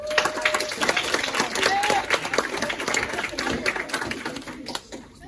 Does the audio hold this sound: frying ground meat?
no